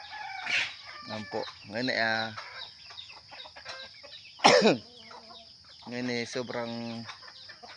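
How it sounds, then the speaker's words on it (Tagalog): Chickens cluck and a rooster crows nearby at dawn, still dark, while someone speaks quietly in between the calls. "Agang gumising ang mga manok ah."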